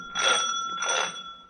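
Two quick bright rings of a small bell sound close by in a quiet room, each with a short metallic shimmer.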